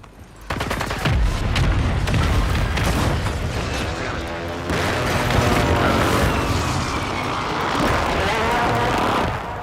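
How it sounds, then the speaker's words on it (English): Heavy mortar strike explosions in a military shooter video game, a sudden loud boom followed by sustained rumbling blasts and crackling gunfire, close and dense, with voices talking over the chaos. "I caught mortar strike there."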